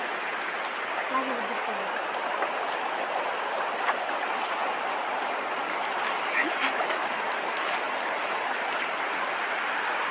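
Steady rain falls outdoors on a field where fishing nets are being cast, a dense, even hiss of drops with a few faint knocks and splashes underneath.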